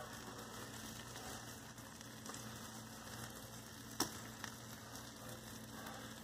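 Pancakes and eggs cooking on a Blackstone E series electric griddle make a steady, quiet sizzle, with a faint hum beneath and a couple of small clicks partway through.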